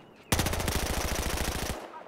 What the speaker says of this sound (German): Ich kann hier einfach nur schießen.